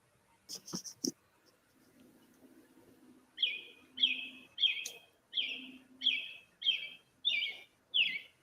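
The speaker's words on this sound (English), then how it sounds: "That's literally a bird." A bird chirps in a steady series of about eight bright, repeated calls, close and clear, with a few sharp knocks and a low hum just before.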